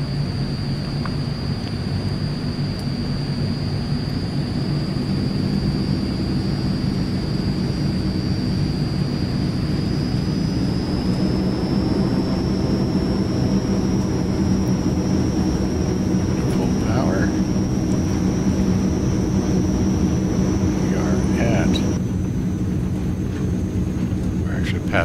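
An AzurPoly C 160 light aircraft rolls down the runway for takeoff in Microsoft Flight Simulator, its steady engine drone loud and continuous, with a rising whine building throughout.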